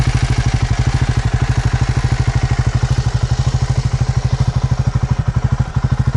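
A Triumph Scrambler 400X motorcycle engine runs steadily up close, its single-cylinder thump pulsing in a fast, even rhythm with a loud, constant clattering drone throughout.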